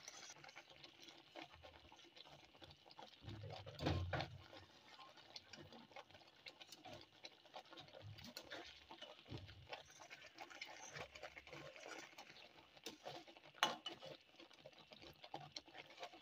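Khoya made from fresh milk is stirred continuously in a pan while cooking burfi. A faint, steady scraping and soft patter runs throughout, with a few louder knocks of the spoon against the pan.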